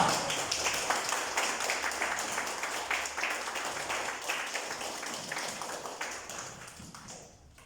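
A church congregation applauds steadily for several seconds, dense clapping that gradually fades toward the end.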